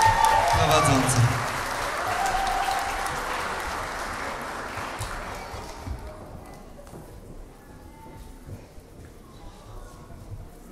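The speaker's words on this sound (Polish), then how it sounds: "Wielkie dzięki, wielkie brawa dla naszych prowadzących." Applause from a concert audience, loud at first with broadband clapping, then thinning out and fading toward the end.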